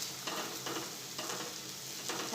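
Dahi vada batter fries in hot oil over a medium flame, a steady, dense sizzle with soft bubbling pulses that swell every half second or so as the vadas are turned.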